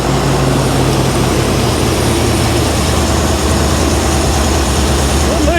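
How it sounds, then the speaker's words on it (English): The engine of a 1975 Bricklin SV-1 with a dirty carburetor roars loudly up close as a steady, dense drone with no break. "but then it picks up when you rev it. Carburetor's unhappy or something."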